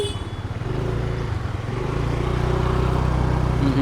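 A motorcycle carrying two riders rolls along a road on a trip from Mumbai toward Ratnagiri, its engine a steady close droning hum with faint rising revs and no talk.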